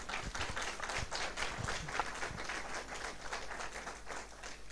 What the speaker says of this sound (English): If you can applaud them for me